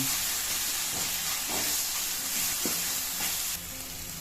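Ginger garlic paste fries in a pan as the base for a mushroom gravy, making a steady, close sizzling hiss punctuated by a few soft stirring scrapes. It quiets a little near the end.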